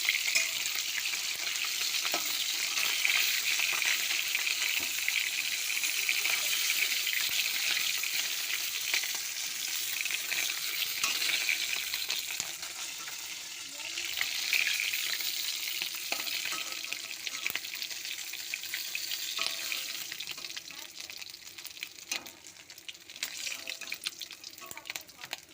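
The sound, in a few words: bogo fish frying in oil in a pan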